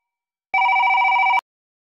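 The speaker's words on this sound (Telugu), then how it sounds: "రావురు ఫోన్ వస్తుంది." Telephone ringtone, one short electronic ringing burst of a rapidly trilling tone that lasts under a second, loud and close, with silence before and after.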